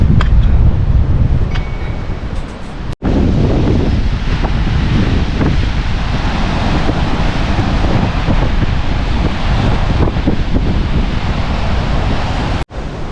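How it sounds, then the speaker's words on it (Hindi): A mountain waterfall on the Hampta Pass trek in the Himalayas roars as a loud, steady broadband rush, mixed with wind buffeting the microphone. "और ये इधर एक प्यारा सा झरना"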